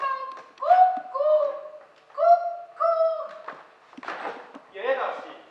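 An actor on stage in an amateur theatre play imitates a cuckoo clock call with a run of tuneful, cooing two-note hoots. Short pauses separate the hoots, and other voices and stage noises can be heard between them.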